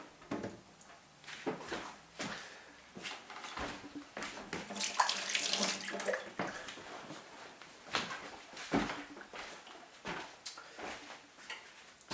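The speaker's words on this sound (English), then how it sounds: "Just giving them a bit of a rinse. Make sure they're properly clean." Food gets rinsed under a running kitchen tap, the water splashing and shifting in uneven bursts with clunks and handling noises, close by and moderately quiet.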